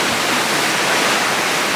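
Ocean waves break along the Uljin coast on Korea's east sea, a steady, loud, broadband rush of surf and spray that fills the short moment without pause.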